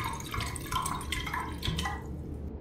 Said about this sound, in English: Now I can fill it with some water.